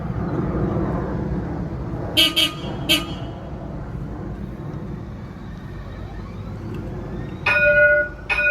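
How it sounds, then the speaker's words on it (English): A Parramatta Light Rail tram on test runs sounds its horn in two short bursts, then a longer blast a few seconds later, loud and near over a low rumble of street traffic. "the trams have to sound their horn each time they approach a tram station"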